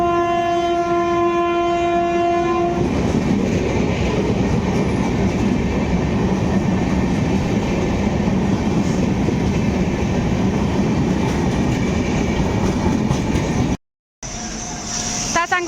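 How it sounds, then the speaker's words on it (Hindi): The Chhattisgarh Express pulls into an Indian railway station, opening with a loud sustained horn blast and then a heavy, steady rolling rumble of wheels and carriages close by, with faint voices around and a brief dropout near the end. "हमारा ट्रेन फाइनली आ गए"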